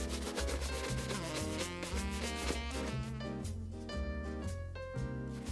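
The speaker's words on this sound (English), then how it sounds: "I'm going to buff the cream polish off of the other. Horsehair brush, brisk motions." A horsehair brush buffs cream polish off a leather shoe in brisk, rapid back-and-forth strokes, a steady rhythmic rubbing swish set against loud background music.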